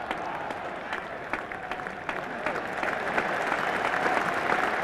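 Cricket crowd at a NatWest Trophy final applauding Randall's fifty and bowler Lever, a sustained ripple of clapping that swells slightly toward the end, heard from across the ground.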